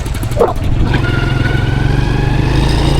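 A scooter engine drones steadily and loudly while riding toward a village market in Thailand, with a brief dog bark near the start.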